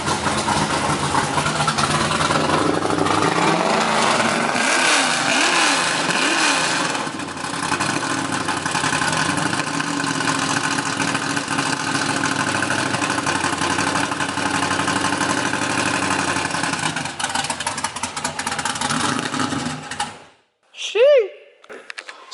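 A BMW E46 drift car engine idles loudly and choppily with an uneven, lumpy rumble for about twenty seconds before cutting out abruptly, with voices talking over it.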